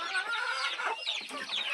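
Native village chicks cluck and peep continuously and close by while pecking at poultry feed, a busy overlapping chorus of small bird calls with no talking.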